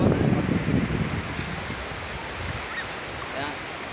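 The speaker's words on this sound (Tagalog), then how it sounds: "So dito tayo sa tabing dagat." Waves wash against the shore at a seaside beach, a low rushing surge that is strongest at the start and then fades into softer surf and wind noise under faint distant voices.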